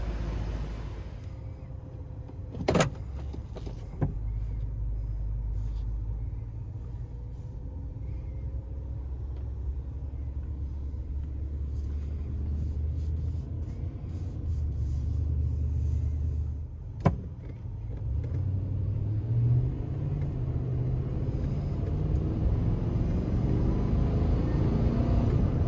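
A 2005 Toyota Sequoia drives along with a steady low engine and road rumble from inside the cabin, joined by a couple of sharp clicks or thumps and a rising engine pitch toward the end.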